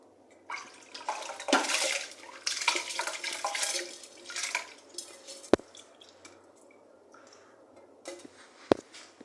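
Rice is rinsed by hand in a pot of water for a pressure cooker, with close splashing and sloshing in uneven bursts and a few sharp clinks and knocks between quieter moments.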